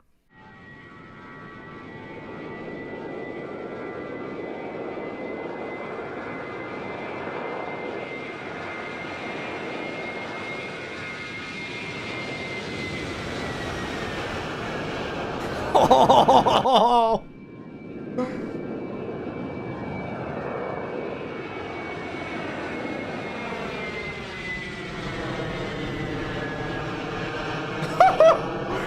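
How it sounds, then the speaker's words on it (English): An Embraer jet airliner takes off in a flight simulator, its engines building into a sustained whining roar that holds steady, briefly cut by a short burst of noise midway, with a single exclamation near the start. "this video shows the plane taking off and some of the ground reflections of the sound"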